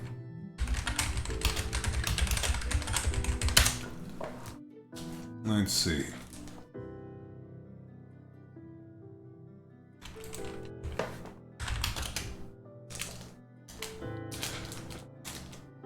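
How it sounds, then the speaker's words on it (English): Rapid computer keyboard typing comes in dense clattering bursts, pausing for a stretch of near silence before several shorter flurries of keystrokes return; a voice briefly speaks. "A lot of typing in this drawing stream."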